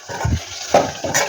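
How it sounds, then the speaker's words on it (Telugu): Water is poured into chicken curry cooking in a pan over a medium flame, giving a short splashing gush with a couple of brief pouring bursts, close and fairly loud, with no talking. "ఇందులో కొన్ని వాటర్ వేసి ఒక 2 నిమిషాల తర్వాత"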